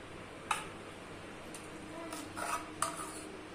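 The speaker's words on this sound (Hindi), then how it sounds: "अब मैं इसमें ऐड करूंगी 2 आइस क्यूब्स और घर की फ्रेश मलाई।" Two ice cubes dropped into a glass of cold cocoa, each landing as a faint, sharp clink a couple of seconds apart, with lighter taps in a quiet kitchen.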